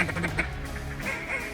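A duck quacks in flooded timber during a hunt, giving a few raspy calls close by over a steady background of water and activity.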